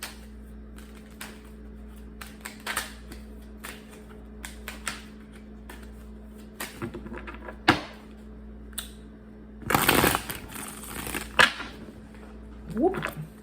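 Tarot cards are shuffled by hand in scattered bursts of riffling and tapping over a low steady hum, with a louder, denser shuffle near the end.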